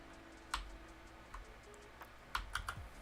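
Quiet computer keyboard keystrokes pressing copy and paste shortcuts: a few sharp, isolated clicks, one near the start, one in the middle and a quick cluster near the end, against a faint hum.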